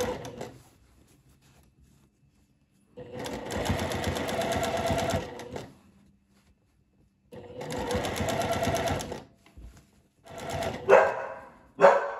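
A sewing machine stitches a seam on a floral sundress in two sustained runs of rapid, even mechanical whirring, close and steady. The runs are separated by quiet pauses, and a dog barks a few times near the end.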